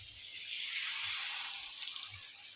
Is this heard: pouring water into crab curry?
yes